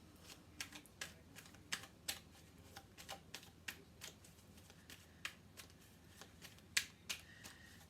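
Tarot cards are shuffled close up in a quiet room, giving a steady series of crisp riffling snaps and flicks at a soft level, with no talking.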